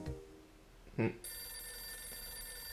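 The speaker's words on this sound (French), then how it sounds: "Le téléphone." A telephone rings in the video game Hotel Dusk: Room 215, a steady electronic trill starting just after a brief burst of sound and continuing to the end over quiet hum.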